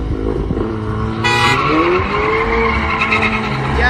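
A Cupra Formentor launches in a street drag race at night in Chihuahua, Mexico, its engine revving hard with tires squealing as it pulls away, loud and close against crowd noise.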